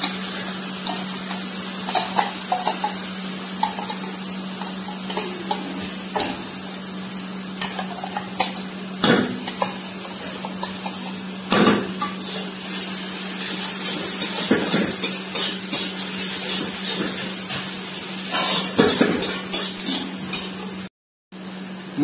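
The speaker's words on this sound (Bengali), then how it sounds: "মশলা ভাজা হয়ে গেছে" Ground cumin, coriander, turmeric and Kashmiri chilli powder fry in a pan for aloo bhuna, a steady close sizzle with a low hum and occasional stirring scrapes, cutting briefly near the end.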